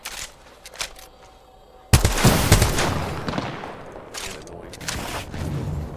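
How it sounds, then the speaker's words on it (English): Gunfire in the video game Apex Legends: a sudden loud burst of rapid shots breaks a quieter start and continues as a dense, sustained barrage of firing. "Where are we getting shot from?"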